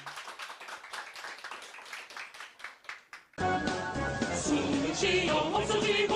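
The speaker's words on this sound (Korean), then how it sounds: "박수 한번 보냅시다" Applause at a gathering, scattered claps for a few seconds that then give way to loud music.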